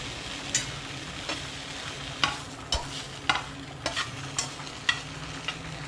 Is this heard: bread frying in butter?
yes